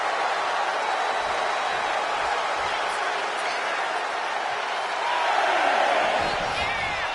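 Wrestling crowd cheering and hollering in an arena as a wrestler hypes them up, a dense continuous roar of voices that swells louder near the end.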